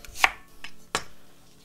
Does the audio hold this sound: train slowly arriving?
no